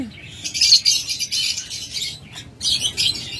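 A pair of cobalt opaline budgerigars chirps and twitters in close, bright bursts with a brief gap partway through, the calls filling the moment with no talk over them.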